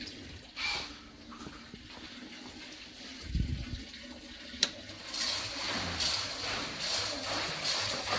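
Water sloshing and surging through gravel in a homemade gemstone pulsator on its first test run, with a steady wet churn that swells into a brighter rushing wash toward the end.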